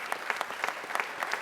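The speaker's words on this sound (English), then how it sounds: "Can you give them a round of applause" Audience applause for staff at a Louisville event at the Muhammad Ali Center, steady dense clapping from a crowd throughout a short stretch.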